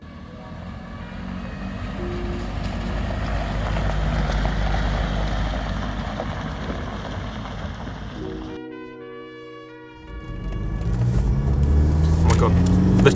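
A KAHN Chelsea Truck Company Land Rover Defender 110 drives on a road, its engine and road rumble loud and steady throughout, dipping briefly before rising again as a voice speaks over it.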